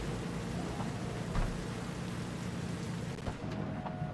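Steady rain pours in a Cyberpunk 2077 video game scene, a dense continuous hiss with soft rumbles of thunder rolling underneath, heard alone without voices at moderate volume.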